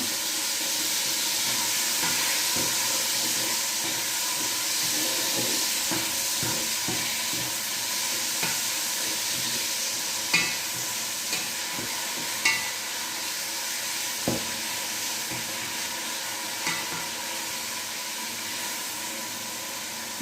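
Lardons sizzle steadily in a hot pan for Haitian rice, a constant close frying hiss with a few soft scrapes and stirring clicks scattered through it.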